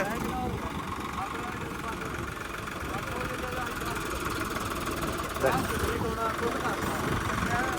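A steady Swraj 855 4x4 tractor engine idles nearby with a constant low rumble, with a faint knock or clatter partway through and voices talking over it.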